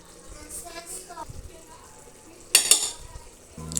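Village-style mutton curry being mixed in a pot, a low simmer with quiet stirring, then a louder clatter of a spoon against the metal pot before a short scrape at the end.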